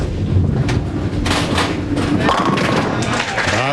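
A bowling ball strike at a 2001 PBA senior professional tournament, a deep rolling thud followed by the clatter of pins under a commentator's voice in a noisy bowling center.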